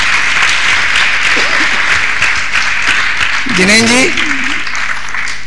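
An assembled audience claps to welcome guests at a gathering of the Pt. Todarmal Smarak Trust, loud, sustained applause filling the room while someone briefly speaks over it.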